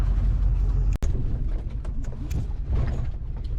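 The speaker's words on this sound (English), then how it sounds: "this just turned into Chevy Duramax on a dirt road with a tilt bed trailer" A Chevy Duramax pickup towing a tilt bed trailer rumbles along a dirt road, a steady low drone with bumps and rattles from the rough surface, heard from inside the cab.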